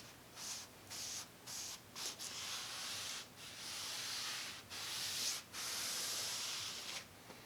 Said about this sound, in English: then you can just push the mat down as well